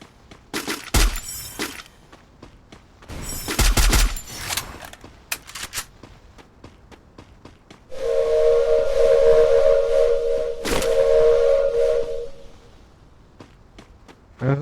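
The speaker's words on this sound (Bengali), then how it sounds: "ট্রেন আগাচ্ছে।" A steady train whistle blows for several seconds on the Solara map of a video game, amid scattered clicks, bangs and footstep-like noises from the game scene.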